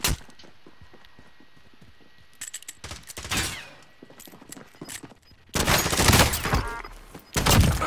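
Gunfire in Call of Duty: Modern Warfare, scattered distant shots at first, then heavy, loud sustained automatic fire close by toward the end.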